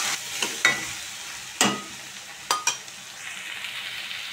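Potato and pea bhaji with cumin and turmeric being stirred in a pan, a steady soft sizzle broken by a few sharp scrapes and clinks of the spoon, close and alone.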